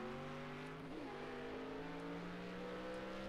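Le Mans race cars accelerating, several engine notes rising and shifting together in a continuous high-revving drone, with faint pitch dips as gears change.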